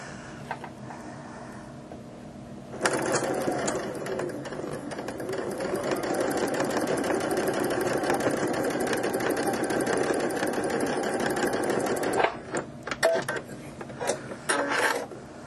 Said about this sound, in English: and sew them at 1/4 inch.